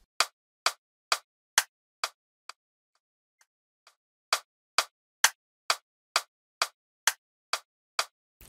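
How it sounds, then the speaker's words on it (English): BandLab metronome clicking in a steady, even pulse, sharp loud clicks repeating about twice per second, pausing briefly in the middle before resuming at the same tempo. "We can change the metronome sound so that it cuts through and we can still hear the pulse and the beat very clearly"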